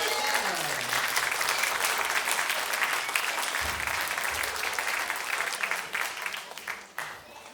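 An audience at a jazz concert by a wind ensemble bursts into sustained applause for a new association president, a thick wash of many hands clapping at steady volume before thinning and fading near the end.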